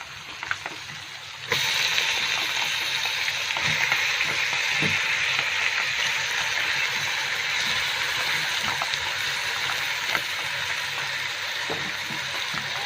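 Lamb pieces hit hot ghee with golden onions for Syrian shawarma, and a sudden loud sizzle starts, then holds as a steady close frying hiss with a few soft stirring knocks.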